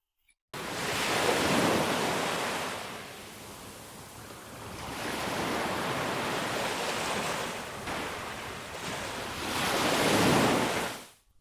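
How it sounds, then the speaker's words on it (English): Sea waves surge and crash in loud rolling swells, rising twice to strong peaks with a quieter wash between, with no voices. "The bird started to stare the sea until it threw its water"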